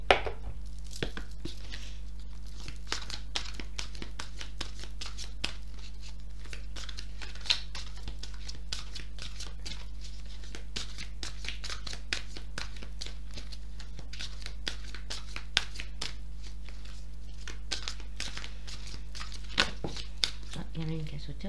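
Oracle cards shuffled and drawn during a card reading: a dense run of quick papery flicks, rustles and soft slaps, close and fairly quiet, over a steady low hum throughout.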